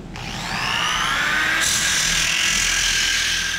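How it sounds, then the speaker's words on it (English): A variable-speed power sander at low speed grinds steadily against the edge of a glass mirror up close, a continuous whine and rasp with a shift in pitch partway through. "when you're sanding this, you don't want to use any kind of high speed"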